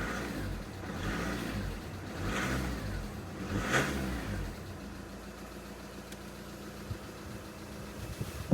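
A car engine in first gear revs in a few surging pulses with the brake held, rising and falling, then settles to a steady idle rumble close by.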